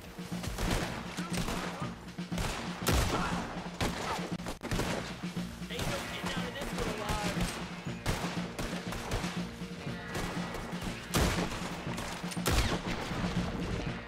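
Dense, rapid gunfire rattles almost continuously, with bursts and heavy shots layered in a loud chaotic battle, voices shouting beneath, in the video game Red Dead Redemption 2.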